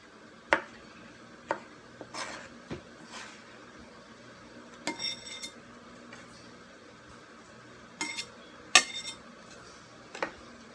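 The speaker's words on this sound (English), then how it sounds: "I can just go ahead and chop the pickle down into dices" A knife dices a pickle on a cutting board, giving scattered sharp taps and clinks with irregular pauses between them, close but fairly quiet.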